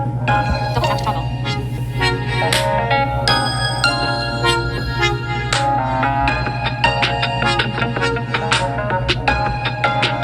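Samsung's Starburst ringtone plays: a loud, bright cascade of bell-like synth chimes in quick, sparkling runs over a steady sustained low tone, heard alone for about ten seconds.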